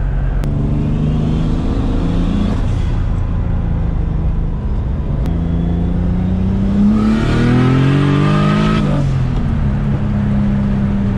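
A turbocharged, forged BMW M50 engine during break-in holds a steady droning note, then revs up with a rising whine and falls back as it decelerates.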